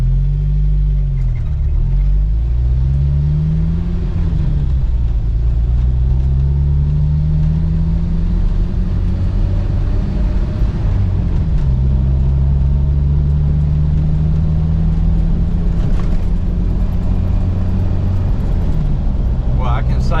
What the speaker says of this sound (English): try to do a smooth acceleration test to see if it got rid of my jerkiness